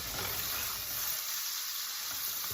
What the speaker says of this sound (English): Our butter is nice and melted and foamy, and the first thing that's going in, this is an onion, diced up, roughly diced